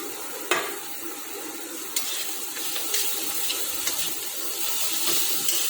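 Carrots stir-fried in a pan for a vegetarian chow mein with curry leaves, a steady broadband sizzle and scraping with several sharp clatters of the spatula against the pan, close and continuous without talk.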